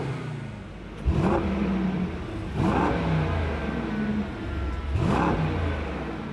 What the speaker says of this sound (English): now let's try some revs in comfort